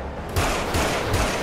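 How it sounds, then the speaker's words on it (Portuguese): Gunfire in the video game GTA RP comes as several sharp bursts of shots at an irregular rhythm, loud against a steady rushing background, with no talking during the shots. "Ó, oh, deram tiro."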